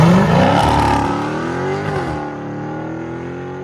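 A Dodge Challenger 392 Scat Pack fitted with Dynamax race bullets revs loudly nearby, the exhaust rising in a sharp burst and then falling back to a rumbling idle.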